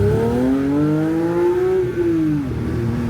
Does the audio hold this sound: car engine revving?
yes